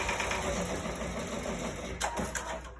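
A Ricoma MT-1501 embroidery machine stitches a design onto a hat, a continuous fast mechanical whir with rapid needle clatter, fairly close and steady, with a few sharper clicks toward the end.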